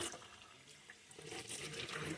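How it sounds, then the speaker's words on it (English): Cold water runs from a kitchen sink tap in a soft, continuous hiss and splash that builds slightly louder toward the end, faint and unaccompanied by talk. "I'm going to take it over to the sink and start running cold water on it."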